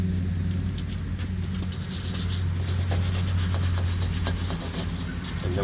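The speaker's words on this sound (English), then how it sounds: "What I'm going to do now is going to take a little wire brush." Wire brush scrubbing the front brake hub of a 2021 Kia Telluride during a pad and rotor change, a steady continuous rasping rub close by over a low background hum, with no talk.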